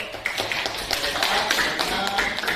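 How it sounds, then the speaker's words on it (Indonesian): Applause from a small group in a classroom or workshop session after a score is announced, loose uneven claps from several people close by, fairly steady throughout. "Tepuk tangan dulu."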